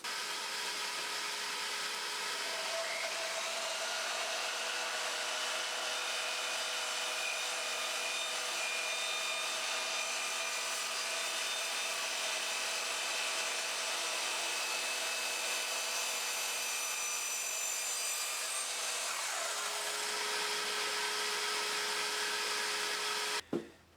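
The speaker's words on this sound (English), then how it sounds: "I'm going to switch the vacuum on and then I'm going to make this cut" A loud, steady whine of a vacuum runs throughout while a sliding mitre saw spins up and cuts, ending with a sharp click as everything stops.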